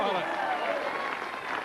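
Crowd at a bowling match applauding a double, a dense wash of clapping and cheering held steady throughout, with a commentator's voice woven through it.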